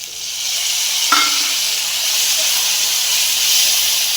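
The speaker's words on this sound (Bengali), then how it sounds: "এবার আমি ভালো করে কষিয়ে নেব" Spices, tomato and salt sauté in hot oil for a jackfruit curry, giving a steady, loud sizzle and hiss with one brief clatter of stirring near the start.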